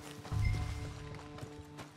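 Horse hooves clopping in Red Dead Redemption 2: a brief thudding burst of steps near the start, then fainter, uneven footfalls under soft game ambience, with no talk.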